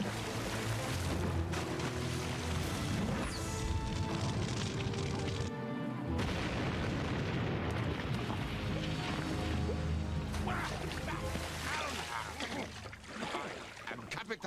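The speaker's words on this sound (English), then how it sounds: "When the alcohol reaches the boiler vents, it will explode." Loud crashing explosion from alcohol igniting at a ship's boiler vents, a burst of booming, smashing noise with clattering debris in a dramatic scene.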